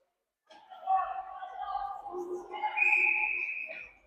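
A referee's whistle during a hockey game, in the second period, sounds as a steady shrill tone of about a second near the end, mostly under continuous play-by-play commentary.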